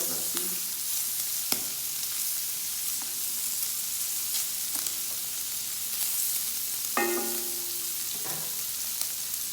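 Bacon frying in a pan while smoked bacon syrup is being made, a soft steady sizzle with a few clinks and stirring sounds scattered on top. The sizzle stays fairly quiet throughout.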